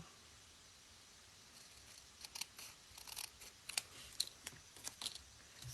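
Scissors trim the excess designer paper from a handmade pop-up birdhouse, making a series of quiet, close, crisp snips that grow more frequent toward the end.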